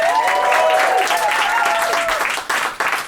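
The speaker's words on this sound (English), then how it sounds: "Give yourselves a round of applause." Audience applause fills a comedy special venue, loud dense clapping from a large crowd that holds steady and then starts to thin near the end, with a voice briefly audible over it.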